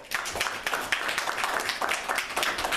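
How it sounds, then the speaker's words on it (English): An audience at a community gathering claps steadily for about three seconds, a moderately loud patter of many hands with no voices over it. "let's give them a round of applause"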